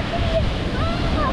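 Stormy sea waves and strong wind at a beach in Dzhemete, Anapa, roar in a continuous loud wash with heavy wind buffeting on the microphone and faint distant voices or gull cries.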